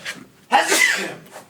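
Someone sneezes once, sharply and close by, during a casual sports talk conversation. The burst is brief, with faint breathy sounds just before and after.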